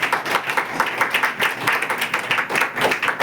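A church congregation claps together after a scripture reading, a steady patter of many hands filling the room with loose rhythmic bursts, fairly loud and close, no voices over it.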